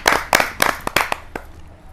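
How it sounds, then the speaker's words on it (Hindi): Audience applause at a Hindi kavi sammelan poetry gathering: a small crowd claps in short uneven bursts, fairly close, fading out after a couple of seconds with no talk over it. "जोरदार तालियों के साथ"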